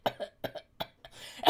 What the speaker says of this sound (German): Tut mir leid, ich hatte einen kleinen Hustenanfall.